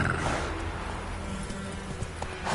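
Roach, Geralt's horse in The Witcher, galloping: a continuous drumming of hooves under rumbling game ambience, close and steady throughout.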